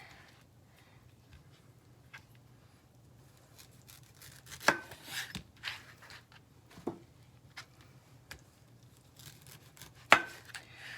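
Knife cutting pineapple into small chunks on a board, with faint, sparse, irregular chops and taps, quiet and close, with no talking.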